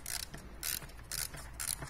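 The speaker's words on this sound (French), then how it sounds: "j'ai mis le compresseur de ressort" A spring compressor is tightened on a coil spring from a BMW E46 316ti, giving four evenly spaced bursts of ratcheting, clicking mechanism noise, fairly close and moderately loud, with no voices.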